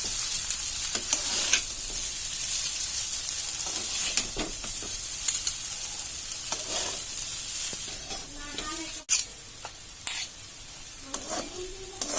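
Chow mein is stirred and tossed as it fries in a pan, with a steady sizzle throughout and occasional louder scrapes and clinks of the utensil against the pan, close and without talk.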